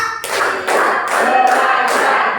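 Classroom clap game: rhythmic group clapping in bursts, several claps in quick patterns, fairly loud and close, with no talking over it.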